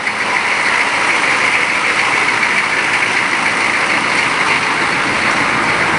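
A gasoline truck engine idles steadily at a warehouse, a close, continuous and fairly loud drone that holds level for the whole stretch with no voices.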